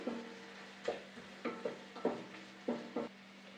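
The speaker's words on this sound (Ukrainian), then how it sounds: "Перемішуємо цибулю." Onion frying in a pan is stirred with a utensil, giving about seven short scraping strokes in an uneven rhythm over a soft, steady sizzle, close up and with no voices.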